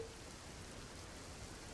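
Heavy downpour over Surendranagar, a steady, dense wash of rain noise holding even and unbroken throughout, fairly faint and with no voices.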